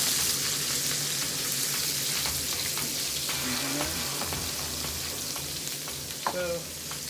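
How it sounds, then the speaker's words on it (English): Peppers frying in a pan in a small kitchen, a loud continuous sizzle with occasional stirring scrapes and taps, steady throughout and mostly free of talk. "Because I want to cook the peppers till they're soft."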